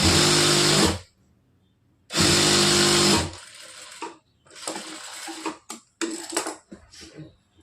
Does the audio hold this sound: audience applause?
no